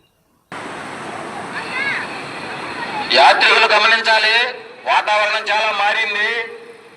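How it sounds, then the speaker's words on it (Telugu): Sea waves rolling in on the beach at the Bapatla to Chirala coast, a continuous washing roar heard close by, with people talking over it during the second half. "ఆ పైన క్లైమేట్ని బట్టి అలలు కూడా బాగా ఎత్తుగా వస్తున్నాయి"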